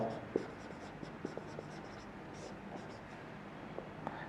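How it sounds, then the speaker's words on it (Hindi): Faint scratching of pen on paper while formulas for a gravitation revision summary are written out, soft irregular strokes with small taps, close and quiet with no talking. "डायरेक्ट लिख दे रहा हूं"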